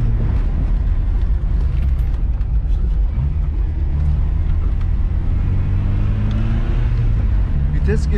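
A Tofaş Şahin car with a 1.8 LPG engine climbs a winding mountain road, its engine rumbling loud and close as pitch rises and drops with gear changes, with occasional voices over it.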